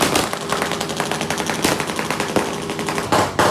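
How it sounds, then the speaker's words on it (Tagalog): New Year's midnight fireworks explode in a dense, loud barrage of rapid cracks and bangs, one burst running into the next like gunfire, with no talking. "Alas 12 na, fireworks display."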